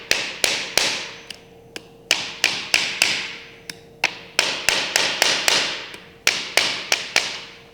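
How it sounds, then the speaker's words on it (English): A hammer drives insert teeth into a board with a long run of sharp, loud taps, some grouped in quick bursts and others spaced with short pauses, close up and with no talking. "you're gonna take a hammer and you're gonna drive these teeth into the board"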